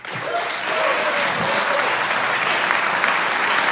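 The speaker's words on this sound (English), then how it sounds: "Only Republicans applauded." Applause fills a legislative chamber, a sustained wash of many hands clapping that swells after a moment and holds steady, with a murmur of voices underneath.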